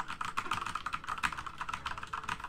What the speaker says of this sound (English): I'm hitting the wrong keys